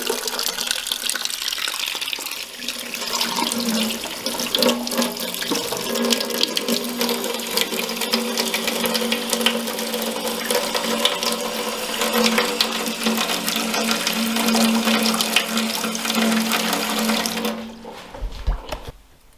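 Water runs steadily from a tap to rinse a custom guitar body being finished in lacquer, a loud continuous splashing rush that holds for most of the stretch before stopping abruptly near the end.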